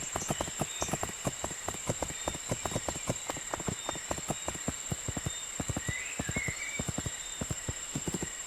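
A horse gallops in the Nintendo Switch video game My Little Riding Champion. The hoofbeats come as a fast, steady clip-clop rhythm over a faint, constant game ambience.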